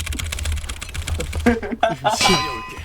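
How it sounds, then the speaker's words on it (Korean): Rapid clicking keystrokes rattle on a keyboard during a Valorant game, dense and close, and then a voice speaks over the typing toward the end. "키보드 소리가 왜 이래?"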